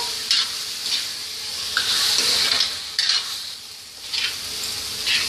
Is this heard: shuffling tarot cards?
no